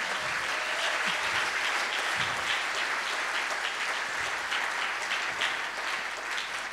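A church congregation applauds throughout a Sunday worship service, steady and dense clapping from many hands filling the space, with no break in the ovation.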